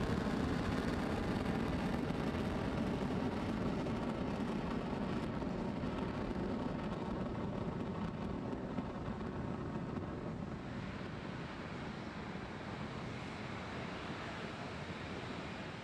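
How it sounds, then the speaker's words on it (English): A SpaceX Falcon 9 rocket climbing away from Space Launch Complex 40 at Cape Canaveral on the Bandwagon 3 mission, a steady, distant broadband roar like rushing wind that eases slightly as it continues, with no voices. "Falcon 9 has lifted off from Space Launch Complex 40 at Cape Canaveral Space Force Station."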